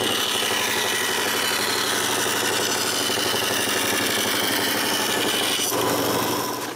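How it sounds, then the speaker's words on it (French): Walnut board sawn across the grain with a power saw, a steady loud cutting drone with constant grinding texture that runs the full length and winds down at the very end; no speech. "Puis, je coupe juste à côté de ma ligne."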